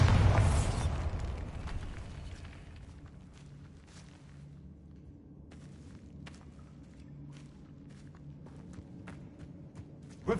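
Bombarda spell explosion from Hogwarts Legacy: a loud boom at the very start that rolls off into a fading rumble, followed by faint scattered footstep-like taps.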